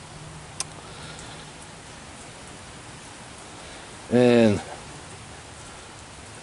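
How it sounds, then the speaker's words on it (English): Steady light rain falls in Michigan after a dry summer, a soft even hiss throughout, briefly interrupted by a single spoken word near the end. "we have been getting some needed rain that we haven't been getting practically all summer long here in Michigan."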